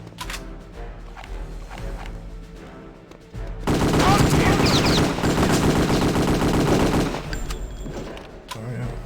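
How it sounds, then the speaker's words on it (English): Sustained enemy gunfire in Return to Castle Wolfenstein, a loud, dense volley of rapid shots from several guns lasting several seconds, with quieter game ambience and scattered sounds before and after. "They line up to shoot you there."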